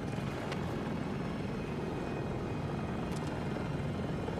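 Enemy helicopter in the Battlefield 2042 video game, a steady rumbling rotor drone that holds at a moderate level for the whole stretch with no talk over it.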